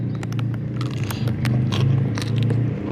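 Someone bites into a fresh winged bean dipped in northern Thai nam prik ong chili dip, with crisp, close crunches and chewing over a low background hum.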